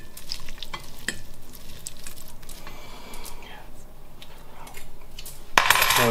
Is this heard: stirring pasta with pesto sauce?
yes